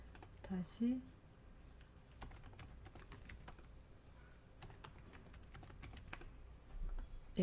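Light, rapid typing on a computer keyboard, soft clicks in quick bursts across the whole stretch, close and quiet, with brief speech heard at the start and end.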